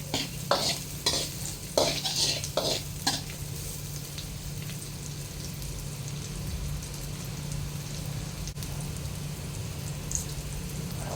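Garlic stir-fries in a hot pan for a stir-fry of green beans in oyster sauce. A few quick scraping stirs come first, then a steady, close sizzle continues alone.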